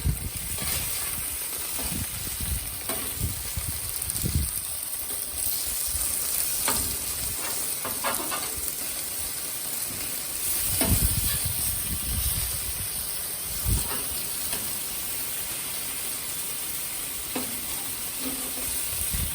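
Steady sizzling of chicken frying in a hot paella pan with saffron, a continuous crackling hiss with occasional louder spits and scrapes of a utensil, outdoors.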